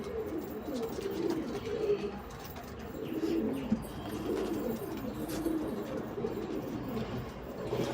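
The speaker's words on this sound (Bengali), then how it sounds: "এরপরে শিরা নর পায়রা দেখুন।" A male pigeon coos steadily in a loft, its rolling low phrases repeating close by, with other pigeons murmuring and a few light clicks and rustles around it.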